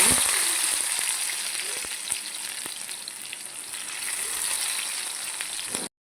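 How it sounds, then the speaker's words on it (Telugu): Onions fry in hot oil with garlic, cumin seeds and curry leaves, producing a steady close hiss with a few faint clicks that stops abruptly near the end. "ఉల్లిగడ్డ వేంపేసుకుందాం"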